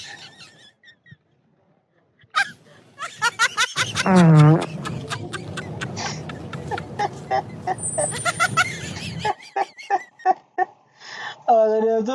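A fart noise goes off during a public prank in South Africa: a loud, buzzy, honking burst is followed by a string of laughs and short excited voices nearby.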